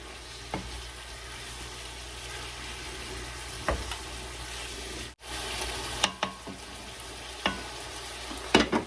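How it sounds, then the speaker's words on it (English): Seasoned pheasant being cooked for fajitas sizzles steadily in a pan while it is stirred, with intermittent scrapes and knocks of a utensil against the pan. "Give it a little stir."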